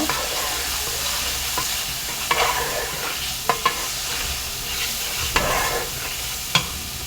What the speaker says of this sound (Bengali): এখন আমি মশলাটাকে ভালো করে বাজা বাজা করে নিব